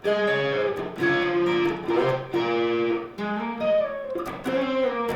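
Electric guitar plays the second part of a riff, a run of sustained, harmonically rich notes with effects, changing pitch in phrases that restart about every second, loud and alone.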